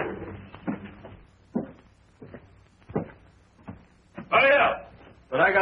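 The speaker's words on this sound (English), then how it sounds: "Get those keys over there and open this door." A sheriff's jail door being unlocked with keys and swung open: several clunks and rattles, with louder scraping bursts near the end, mixed in with people talking close by.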